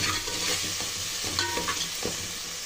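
Chicken biryani masala mixture with spices and salt fries in a pan, its sizzle broken by several close scraping strokes of a spoon as it is stirred, with no voices.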